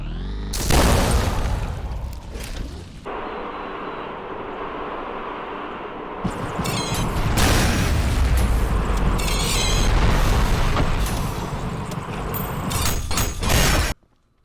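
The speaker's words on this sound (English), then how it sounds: "If a rocket makes direct contact with an enemy, it will explode" Rocket launcher explosions in the video game ULTRAKILL: deep booming explosions and crashing blasts roll one after another, loud and dense, with sharp bursts of debris layered over a rumbling background.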